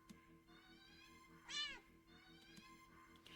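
A single short cat meow rises midway through a quiet stretch of soft ambient game music in Do Not Take This Cat Home, faint and close, with gentle background tones around it.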